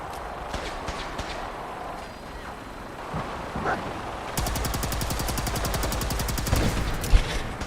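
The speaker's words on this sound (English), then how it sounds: "they're probably shooting at the Brotherhood because the Brotherhood has enemy status with me" Rapid automatic gunfire from the Fallout 4 video game, at first scattered distant shots, then a fast sustained burst of evenly spaced rounds that grows louder and ends with a heavy bang.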